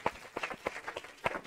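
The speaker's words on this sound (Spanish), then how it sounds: "debemos de despedirle con un muy fuerte aplauso" A small audience gives a brief, sparse round of applause to send off the author Ildefonso Falcones before a book signing, with a few distinct claps scattered across a short moment.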